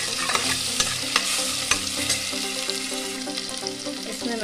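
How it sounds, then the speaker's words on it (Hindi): Ginger garlic paste fries with golden brown onions in a kadhai, a close, steady sizzle broken by sharp clacks and scrapes of a spoon stirring against the pan, with no talking. "प्याज मेरा गोल्डन ब्राउन हो चुका है, इसमें मैं डाल दूंगी 1 टेबल स्पून अदरक लहसुन का"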